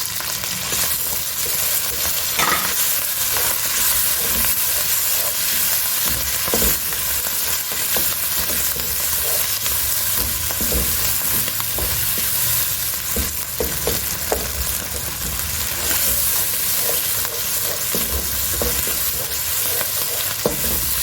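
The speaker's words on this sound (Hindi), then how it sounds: "अभी आपने उतनी देर तक इसको फ्राई करना है कि जब तक फिर टमाटर जो है ना वो अच्छे तरीके से मेल्ट ना हो जाए।" Two large chopped tomatoes fry in spiced oil for Shinwari chicken, a steady, fairly loud sizzle running for twenty seconds, punctuated by intermittent scrapes and knocks of a stirring spoon; no one speaks.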